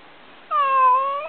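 A single drawn-out meow from a stray cat that has been injured in a fight, close and clear against a quiet background and lasting under a second.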